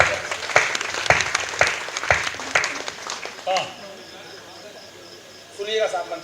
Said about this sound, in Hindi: एक बार हाथ उठा के तालियां बजाएं।